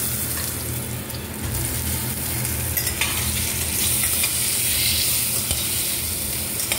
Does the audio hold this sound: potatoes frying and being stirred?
yes